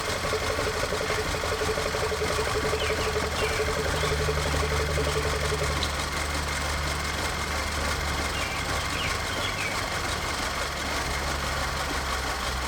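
A car engine idling with the crankcase breather cap off and vacuum pulling at the opening; a steady, rough, close idle hum runs throughout, with a faint lower tone joining midway and no talk.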